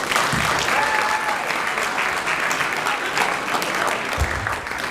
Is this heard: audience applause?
yes